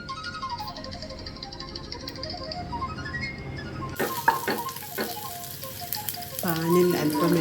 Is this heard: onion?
yes